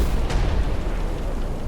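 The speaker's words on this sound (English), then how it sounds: "It sounded like cannons." Cannon fire booms from distant hills, a single dull blast followed by a low, sustained rumble that rolls on without any voices.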